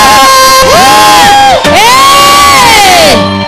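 A church congregation cheers and ululates loudly for their pastor at a Sunday service, with high wavering voices rising and falling in a near, continuous din that briefly dips midway.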